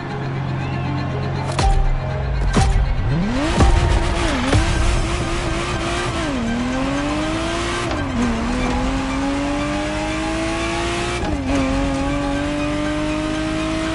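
Ferrari Testarossa engine in the driving game Crew Motorfest, revving and shifting through gears with rising pitch sweeps, occasional tire squeal and skids, steady and close throughout.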